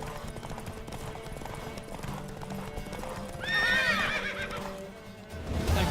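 Hooves clip-clop in a quick gallop in the video game The Witcher 3, then a horse lets out a loud, rising whinny midway before the hoofbeats continue.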